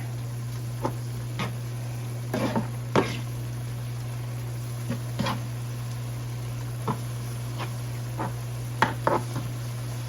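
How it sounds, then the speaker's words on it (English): Ground turkey sizzles softly in a pan under a steady low hum, with scattered scraping taps from a utensil as it is stirred. "I'm going to go ahead and give this a stir."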